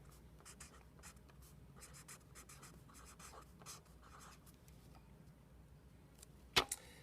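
A pen or marker writes labels on the quadrants of a geometry diagram, making faint, soft scratching strokes in short bursts, ending with a single sharp tap.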